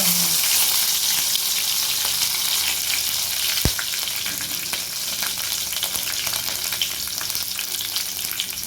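Green chillies frying in hot oil with mustard seeds and fenugreek for an egg paniyaram kulambu, a steady loud crackling sizzle throughout with one sharp pop partway through.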